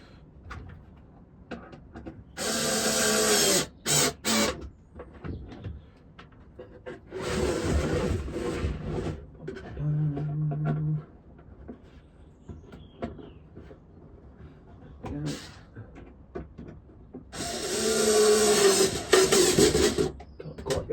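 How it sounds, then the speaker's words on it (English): Screwdriver driving screws into a wooden squirrel house, heard as several separate bursts of grinding, whirring effort a few seconds apart, close and fairly loud, with small handling knocks and creaks between them. "Screw these on properly."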